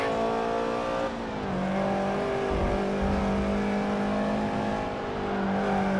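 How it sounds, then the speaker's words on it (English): Mazda RX-8 rotary engine racing in Forza Motorsport 7, a loud, steady high-revving buzz that dips briefly as it shifts or brakes, then pulls on again, heard alone. "Listen to that rotary engine do work."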